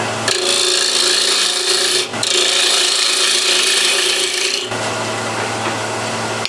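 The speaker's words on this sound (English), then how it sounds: "Again, spindle gouge." A spindle gouge cuts across the grain of a wooden piece turning on a lathe, giving a loud, continuous rasping hiss that runs almost unbroken. There is a brief dip near two seconds and a change in tone near the end, with no talk.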